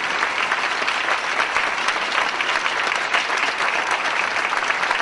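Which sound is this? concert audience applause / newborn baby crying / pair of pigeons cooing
concert audience applause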